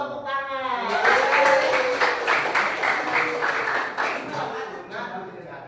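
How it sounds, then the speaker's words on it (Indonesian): A classroom of students claps in a quick rhythmic pattern, the beats mixed with children's voices and a teacher's voice over the clapping. "Tepuk tangan."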